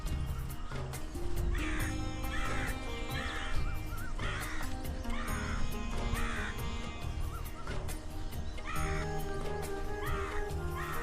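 Crows caw repeatedly in the morning along a forested river bank, loud rhythmic calls recurring every second or so over a busy background of other birds.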